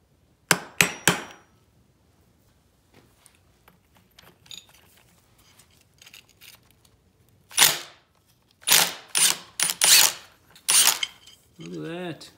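Sharp hammer blows strike a nut on a Honda ATC 200x engine to unstake it, a few quick hits at the start and another cluster of loud strikes later, with faint clinks and talking in between.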